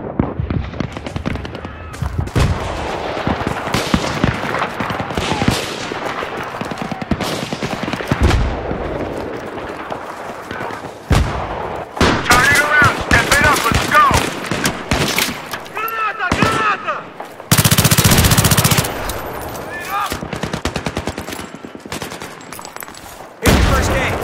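Battlefield 3 match full of shotgun gunfire, with dense bursts of loud blasts and rapid shots from near and far, broken by short pauses and one long roaring explosion.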